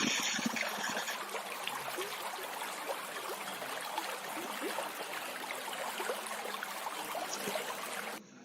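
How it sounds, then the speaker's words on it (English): Water burbles and trickles continuously, a close, busy running flow like a small stream, steady from start to finish with no talking. "It is the bubbling sound of a stream."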